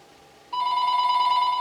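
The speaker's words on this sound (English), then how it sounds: "And I hear the telephone ringing" A telephone rings indoors, a steady electronic trill that starts abruptly after a faint tone and continues loud and close without any talk.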